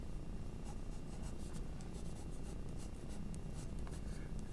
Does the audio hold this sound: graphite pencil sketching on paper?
yes